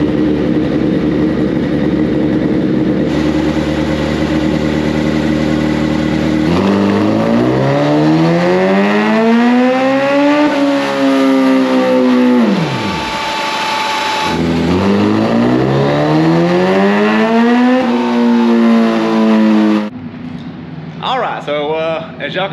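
A loud 2005 Suzuki Hayabusa engine, nitrous-equipped and running E85, drones and revs steadily on a dyno, pitch rising and falling in long sweeps before it cuts off abruptly near the end.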